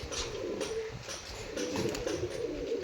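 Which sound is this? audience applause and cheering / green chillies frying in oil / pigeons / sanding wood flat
pigeons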